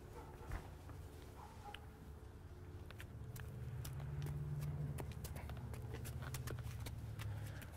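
A young APHA filly, Liberty, walks in circles under saddle on her first ride after three weeks of training, her hooves clip-clopping steadily at a moderate distance over a low background hum.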